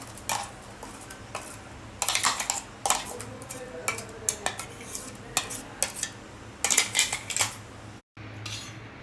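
A ladle or spoon clinks against a metal pot as spice paste goes into coconut rasam on the stove, with irregular sharp taps and scraping stirs over a faint background hum.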